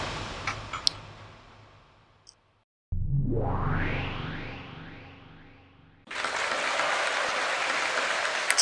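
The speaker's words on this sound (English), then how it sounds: "Just gonna hear all the claps again." Clapping sound effects in the Umineko visual novel: a few sharp claps over a fading background, a brief silence, a rising swelling tone, then dense, steady applause-like noise that continues to the end.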